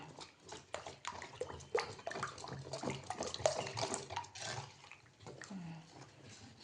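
Water splashes into a pot for a South Indian dahi kadhi and gets stirred, producing faint, uneven sloshing and clinking with intermittent scraping, quiet and close in a home kitchen.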